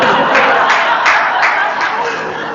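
Audience applause breaking out during a Catholic friar's spoken talk: a dense, steady patter of many hands clapping, fairly loud and close, with no voices over it.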